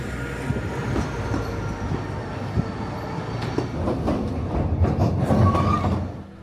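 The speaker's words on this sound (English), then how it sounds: "We are at the train station." A train at a railway station in Penryn, Wales, rumbles steadily with low mechanical drone and scattered clanks and rattles, growing somewhat louder toward the end; no one speaks.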